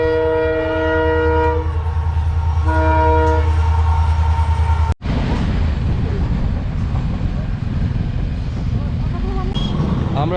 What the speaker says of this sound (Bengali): এখানে রেলওয়ে ক্রসিং গেট পড়েছে,